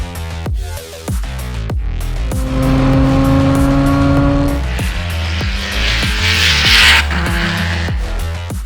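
Time-attack race cars at Sydney Motorsport Park roar along the front straight, loud, high-pitched engine notes rising and sweeping past one after another, with a sustained whine and no voices.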